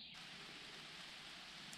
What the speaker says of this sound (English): We got a light drizzle going on.